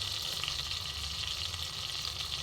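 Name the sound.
black mustard seeds, cumin and dried chillies sizzling in hot oil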